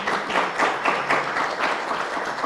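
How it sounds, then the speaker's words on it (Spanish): Steady audience applause closing a film-industry panel, a continuous even roar of many hands clapping with no talk over it. "Un aplauso, por favor, muchas gracias."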